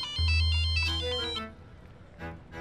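A mobile phone ringtone in a Hindi TV sitcom scene plays alone, a short bright melodic tune with a steady low tone underneath, then a brief second burst near the end.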